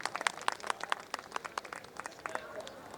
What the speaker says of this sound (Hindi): एक बार उनके लिए आप सबसे तालियों की अपील